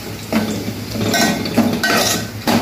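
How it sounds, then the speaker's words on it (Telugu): Ginger and chicken tipped into a cooking pot for a chicken and chana dal curry, giving a few soft clattering knocks and clinks of pieces and utensil against metal, close by and moderately loud, with no talking. "అల్లం వేసి చికెన్ వేస్తా"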